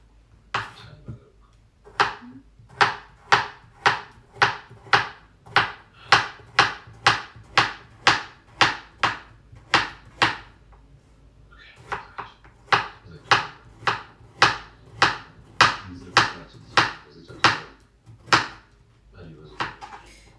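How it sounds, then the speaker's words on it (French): A knife chops carrots into small pieces on a kitchen board, about twenty sharp, evenly spaced close-up chops in a steady rhythm with a brief pause midway. "J'ai coupé les petits morceaux de carottes."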